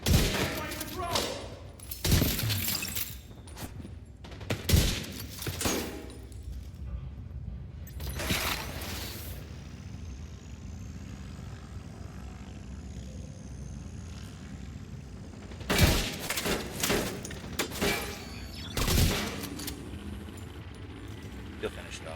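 The Division 2 gunfire comes in sharp bursts and single loud cracks, clustered at the start, in the middle and again near the end. Quieter mechanical and ambient rumble fills the gaps between the volleys.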